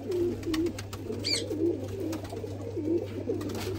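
A pigeon coos softly and repeatedly in low, rolling phrases over a steady hum, with a brief higher chirp partway through; no talking.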